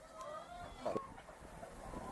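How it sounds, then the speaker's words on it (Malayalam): Faint clucking from egg-laying hens on a farm in Dallas, a few soft calls scattered over low background noise. "നല്ല മുട്ടയിടുന്ന മുട്ടക്കോഴികളാണ്"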